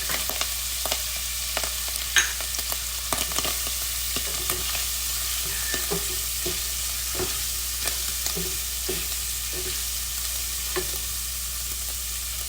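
Garlic frying in a pan, a steady soft sizzle broken by light stirring taps and scrapes, close and even, with no talking.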